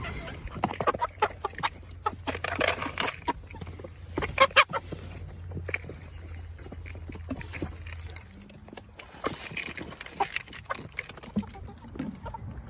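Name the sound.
chickens clucking while eating feed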